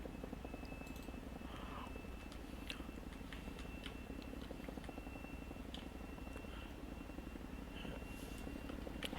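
Helicopter in a flight-school video game performing a quick combat landing, a low, steady rotor and engine hum with faint clicks scattered over it.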